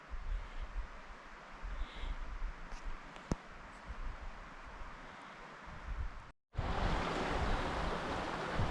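A creek flows steadily beside the remains of an old tramway at Fox Creek, a broad rushing wash with wind buffeting the microphone; after a brief dropout the water returns louder and closer.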